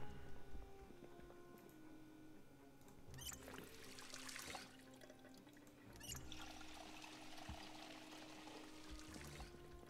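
A water bottle fills in the video game Project Zomboid, giving a faint steady pour and trickle with a couple of swelling surges and light ticking underneath, and no voices.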